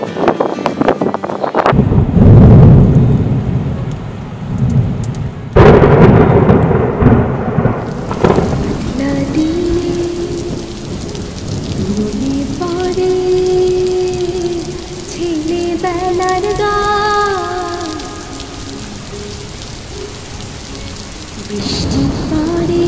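Heavy rain drums steadily over the hills of Sajek Valley while rolling thunder rumbles loudly at the start, with wind buffeting the microphone. A low melodic hum, like singing or music, rises faintly beneath the downpour.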